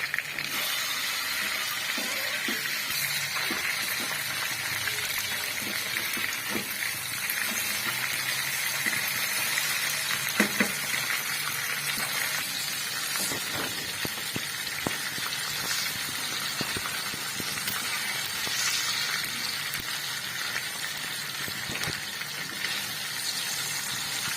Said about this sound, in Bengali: টমেটোকে এর সঙ্গে ফ্রাই করতে হবে।